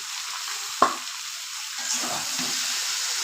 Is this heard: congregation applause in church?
no